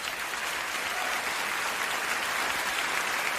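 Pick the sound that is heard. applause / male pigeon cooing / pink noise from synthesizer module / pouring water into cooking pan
applause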